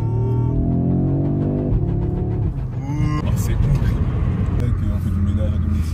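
An Audi RS3's five-cylinder engine rumbles steadily at close range, a deep continuous drone that runs under people talking.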